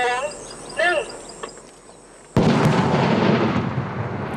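Controlled detonation of landmine ordnance in a Laos minefield: after quiet insects and faint voices, a single loud, sudden blast erupts and rolls on as a sustained rumble to the end.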